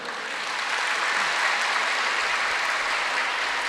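Audience applause for a speaker at a Tamil talk, a dense, even wash of many hands clapping at steady loudness with no voices over it.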